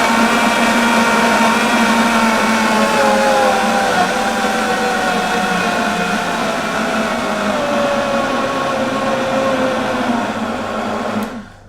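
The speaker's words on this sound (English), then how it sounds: "Make sure your blender's on low, flick it on." An Optimum blender running on low speed, blending bananas for a raw vegan crepe batter, gives a loud, steady motor whir that holds for the whole stretch and then cuts off abruptly at the end.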